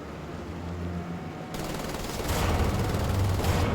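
Turret machine gun firing in Wolfenstein: The Old Blood, a low rumble that breaks into dense continuous rapid fire, growing louder toward the end, with no talking.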